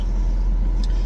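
An air conditioner runs inside a parked truck on a hot day, giving a steady, even hiss and low rumble that holds unchanged from start to end with no voices.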